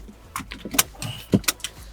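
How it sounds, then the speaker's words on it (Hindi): Inside a Hyundai Creta, a seat belt is pulled across and buckled. A few sharp metallic clicks and rustles come close up over roughly two seconds in a quiet cabin. "तो चलो जी, सीट बेल्ट लगाते हैं"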